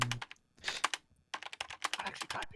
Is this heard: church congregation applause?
no